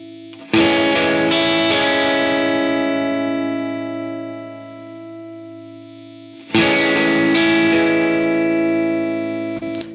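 Clean electric guitar chords run through an amp simulator and a reverb plugin, two sustained strums with long, ringing decays that fade before the next strum.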